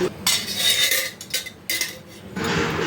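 A metal pan set down on a stove, with close clattering clanks of cookware and utensils in a few irregular bursts over a low background.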